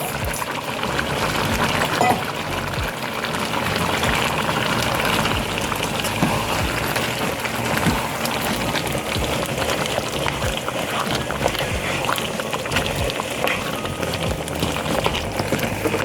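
Smashed chickpeas go into a simmering chana masala gravy, giving a dense, continuous sizzle and bubbling, loud and close, with no voices.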